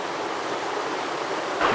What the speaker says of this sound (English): It's really wonderful to actually be here and hear the water